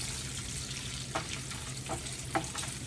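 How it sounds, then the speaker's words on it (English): Bacon frying in a pan crackles and sizzles steadily up close, with a few sharper pops and stirring clinks standing out from the constant hiss. "Our bacon is cooking over here."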